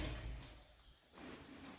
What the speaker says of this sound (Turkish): Buradan da böyle açılan kapı. Bu kapı açılıyor zaten.